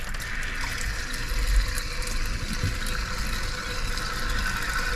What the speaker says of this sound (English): I'm going to open up the hot tap now